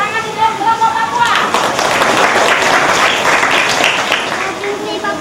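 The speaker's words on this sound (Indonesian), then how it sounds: "Tepuk tangan untuk kelompok Papua" Classroom audience applauding a student group during a school lesson, a dense wash of clapping that swells after a moment of speech and holds steady and loud to the end.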